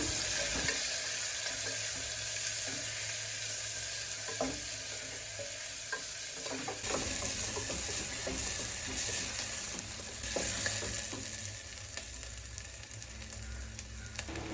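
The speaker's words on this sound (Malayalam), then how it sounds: "സോ ആ ഒനിയൻ ഒന്ന് ലൈറ്റ് ബ്രൗൺ ആവുന്നിടം വരെ നമുക്കൊന്ന് വഴറ്റാം." Onions sautéing in a pan for tomato rice, a steady sizzle running throughout with repeated scraping and clinking of a spoon stirring, close and moderately loud, no talking.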